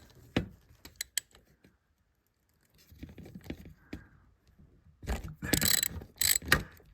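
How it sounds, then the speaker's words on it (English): A ratchet with a 10mm socket loosens a thermostat bolt on a Saab 9-3, sounding as sparse clicks and light scrapes, then a dense burst of quick ratcheting clicks at the end, close up with no talking. "So here's our 10mm socket we're adding to it. Now we're going to go in and we're going to loosen up the second bolt there."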